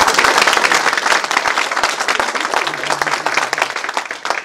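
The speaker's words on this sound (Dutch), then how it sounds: "Wil je nog een applaus?" Studio audience giving a round of applause, dense close clapping that starts loud and gradually thins over several seconds, with a faint voice murmuring underneath near the end.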